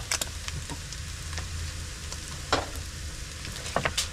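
Food with a spoonful of paprika sizzles steadily in a frying pan at a beach campsite, with a few scraping stirs of a utensil standing out, close and alone with no talking.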